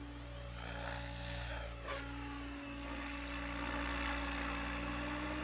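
An RC helicopter with a Combove Type III 5025-530KV brushless motor runs at governed speed, a steady rotor and motor drone that holds at an even level from start to finish.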